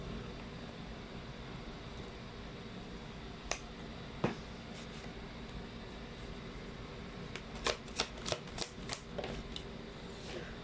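Tarot cards are shuffled and drawn, with soft brief riffles and several quick crisp snaps of card against card, clustered near the end over a faint steady background hiss.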